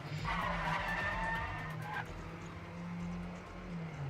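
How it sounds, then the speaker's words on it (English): A car drifts in the racing game Trackmania Canyon, its tyres giving a squealing skid over a steady engine drone, fairly faint, with the squeal strongest in the first two seconds before the engine carries on alone. "Not the best drift here."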